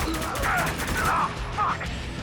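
Heavy gunfire in a Spec Ops: The Line firefight, with dense overlapping bursts and crashing shots that rise and fall over about two seconds, loud and close.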